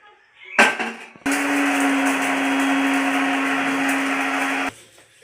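An electric mixer grinder whirs loudly as it grinds lightly roasted spices, starting abruptly after a short clatter and running steadily for about three and a half seconds with a high motor whine before stopping.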